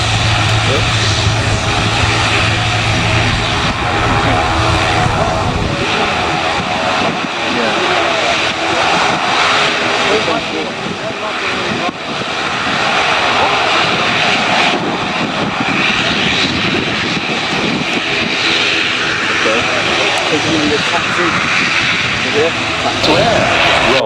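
A military aircraft engine roars steadily during a short landing at the Royal International Air Tattoo air show, a loud continuous drone with a commentator talking over it.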